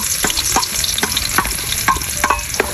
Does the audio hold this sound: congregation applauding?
no